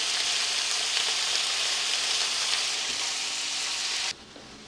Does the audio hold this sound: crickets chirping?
no